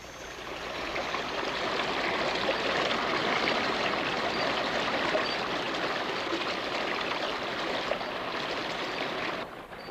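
A stream flowing in a Costa Rican rainforest, a steady broad rush of water close by that runs evenly for nearly ten seconds and fades slightly at the end.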